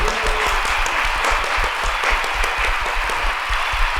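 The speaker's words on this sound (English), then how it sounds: "Can we get some applause for No Label Academy one time?" An audience claps and cheers loudly and continuously for several seconds at a live music course event, dense sustained applause with no one talking over it.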